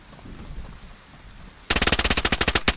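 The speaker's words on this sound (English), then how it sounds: "I'm getting shot at!" Rapid automatic gunfire in the survival game DayZ breaks in after a stretch of quiet rustling, a loud, close burst of evenly spaced shots lasting over a second.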